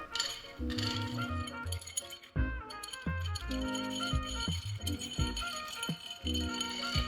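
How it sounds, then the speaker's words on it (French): An Old Fashioned whisky cocktail of sugar, citrus zest, bitters and whisky is stirred, with light glassy clinks and rattles running steadily under background music. "Nous allons donc commencer à remuer notre boisson et diluer légèrement le sucre, les zestes, le bitter et notre whisky."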